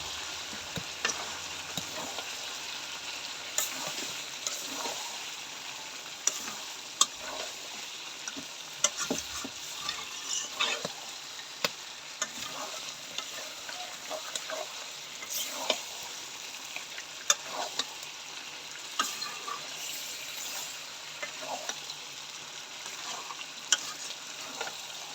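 Chicken and new potatoes cooking in a pan for a thin country-chicken curry, with a soft continuous sizzle and frequent light scrapes and knocks of a stirring spoon, fairly faint and with no voices.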